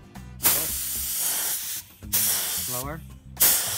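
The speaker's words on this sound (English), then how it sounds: "I'm actually going to spray this piece of pegboard." Bursts of a paint spray gun spraying pegboard, hissing in several sharp, loud blasts with short pauses between, while a person speaks briefly between the sprays.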